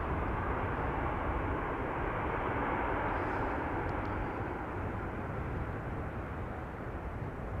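A passenger jet landing at Amsterdam Schiphol Airport: a broad, steady engine roar that holds loud and even throughout, heard from outside at a fair distance.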